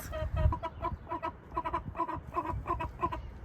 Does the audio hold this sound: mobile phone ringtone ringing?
no